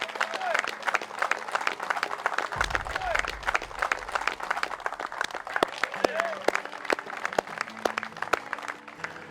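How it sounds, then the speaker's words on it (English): A crowd at a kayak bass fishing awards ceremony in La Crosse, Wisconsin applauds with a sustained patter of claps and occasional cheers, moderately loud, while a voice speaks over it. "one more round of applause"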